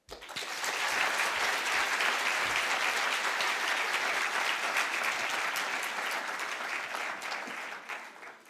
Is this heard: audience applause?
yes